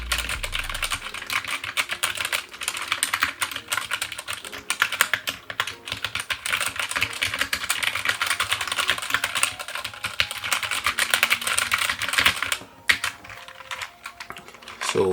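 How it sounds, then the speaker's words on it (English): A BlitzWolf BW-KB1 mechanical keyboard is typed on rapidly and steadily up close, its keys giving a dense stream of crisp clicks and clacks with no talking. "they are mechanical keys, so I'll just go ahead and you could hear"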